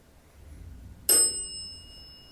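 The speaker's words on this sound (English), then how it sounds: "And now the dead bell in the opposite corner." A single bright bell strike rings out in a quiet, empty attic corner during a ghost hunt, its clear tone lingering and slowly fading.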